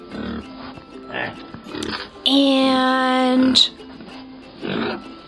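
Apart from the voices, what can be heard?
pigs oinking on a farm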